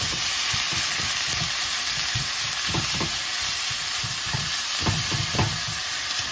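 Ground sirloin fries in a preheated pot, giving a steady loud sizzle and hiss, while a utensil breaks the meat up with irregular scraping and stirring taps.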